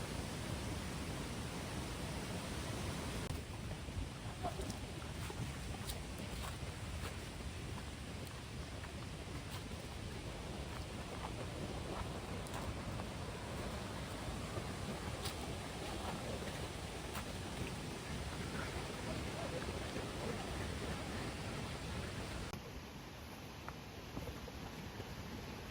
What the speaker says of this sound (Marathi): मित्रांनो, पाणी बघा, फुल प्रेशरला आहे आज पाणी.